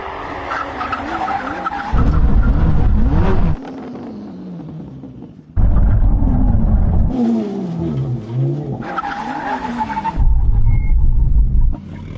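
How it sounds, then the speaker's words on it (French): A car makes brake test runs, with loud engine roar and sharp tire squeal in repeated bursts separated by quieter pauses, close and powerful. "La dernière chose à faire est un test de freinage."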